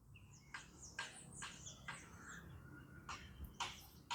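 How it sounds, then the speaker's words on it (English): Several birds chirp and sing in short bursts after rain, some close and some farther off, over quiet outdoor background noise. "I don't know if you can listen to the birds."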